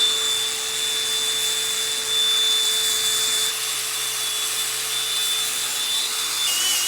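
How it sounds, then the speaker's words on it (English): An angle grinder works on a cast iron radiator, producing a steady high-pitched whine with a constant hiss, loud and close throughout with no talk. "get the grinder"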